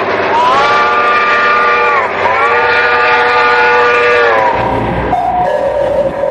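A loud, sustained steam-style train whistle with stacked harmonic tones plays as a sound effect within a Brazilian funk track, holding steady for several seconds before shifting pitch near the end.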